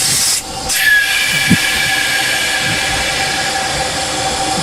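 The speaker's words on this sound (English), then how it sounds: "There it is, train brake." A loud burst of hissing air from the train brake of an SY class 2-8-2 steam locomotive at a coal mine, then steady hiss and a faint whistle-like tone continuing as the train slows.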